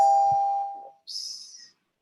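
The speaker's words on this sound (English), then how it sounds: "Sorry, my doorbell is ringing" A doorbell gives a single two-tone ding-dong, a clear ringing chime followed by a brighter second note, heard alone against silence.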